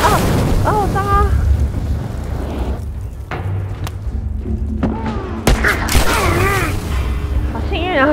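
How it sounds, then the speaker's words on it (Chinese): In The Last of Us, a thrown Molotov cocktail is struck by a shot and bursts into flame, giving a sudden loud boom and thumps midway, with voices talking throughout. "我刚好打中他那个火焰瓶"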